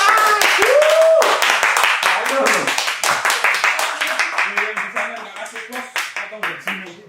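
A cheering crowd gives guest Mahendra a lively round of clapping at the Depot Supo Cafe and Resto, with a loud, dense burst that thins into scattered claps while voices talk over it.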